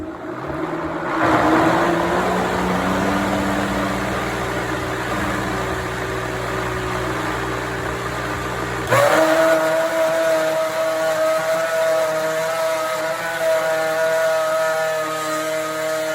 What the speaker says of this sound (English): Sorry about that noise, but that's how the Vitamix does.